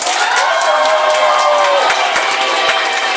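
Loud, dense crowd noise of women at a wedding reception clapping and cheering with high-pitched shouts, sustained throughout.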